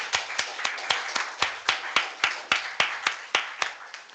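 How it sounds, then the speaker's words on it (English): A single person clapping at a full council meeting, about fifteen sharp, evenly spaced claps, close and fairly quiet, with a faint murmur of voices behind. "let's have a round of applause for all of our co-optees"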